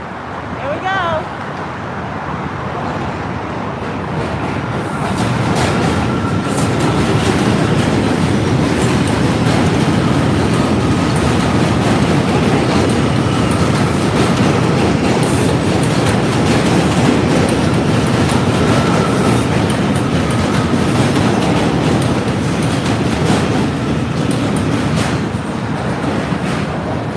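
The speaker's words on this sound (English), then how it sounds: "here comes the train, finally" A train rumbles past on New York's Williamsburg Bridge at night with a steady, loud roar and rhythmic clatter of wheels on the rails, building up over the first few seconds and then holding.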